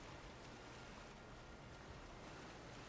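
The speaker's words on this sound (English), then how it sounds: "And there's the rain picking up more." Rain falls in Pokemon Scarlet and Violet as a faint, steady, unbroken hiss with a low rumble beneath it, no distinct drops and no voices.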